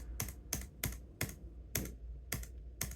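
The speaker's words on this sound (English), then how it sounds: "So we're typing here, we're hitting the edge of the space bar" Typing on the GPD WinMax 2 laptop keyboard, with the space bar struck near its edge: eight or nine sharp, evenly spaced clacks over a faint steady hum, close and clear, with no talking.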